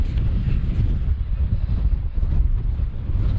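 Wind gusting across an exposed hillside wild camp in Scotland's Southern Uplands, heavy, uneven buffeting rumbling against the microphone without pause.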